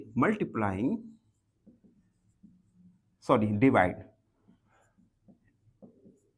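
A pen or marker writing out a simple equation solution for a seventh-grade math exercise, faint scratchy strokes in short bursts between stretches of a man's nearby speech.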